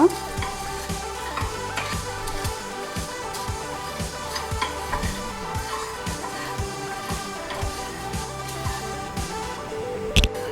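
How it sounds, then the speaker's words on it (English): Bay leaf, dry coconut and sesame seeds fry in a pan for dabeli, a steady soft sizzle with frequent sharp ticks and scrapes of stirring, close up and without talk. "ఇప్పుడు దీన్ని మనం ఫ్రై చేసుకుందాం అన్నమాట."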